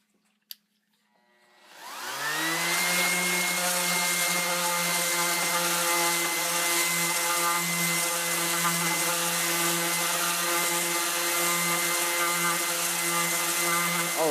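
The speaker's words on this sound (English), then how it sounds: "to get rid of the rest of this waste, I found the best thing to do is just use a random orbital sander" A random orbital sander spins up and runs steadily for over twelve seconds, a loud continuous motor whine with a high hum, clearing leftover waste wood from half-lap joints.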